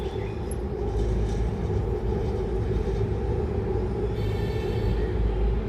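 A train rumbles past close by, a loud and steady roar of wheels and carriages that lasts the whole stretch without a break.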